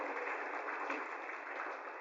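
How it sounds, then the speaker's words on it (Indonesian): A seminar audience claps together in a steady, even wash of applause that sounds muffled and narrow, holding at a moderate level for the whole stretch without any voices. "sekali lagi tepuk tangan."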